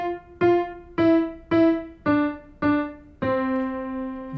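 A piano plays the notes of two bars from a beginner's first song, seven distinct notes struck one after another at a steady, even pace, the final note ringing out longer, clear and close with no voices.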